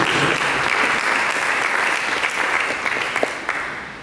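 Loud, sustained applause from a large church congregation, steady clapping filling the space and tapering slightly toward the end.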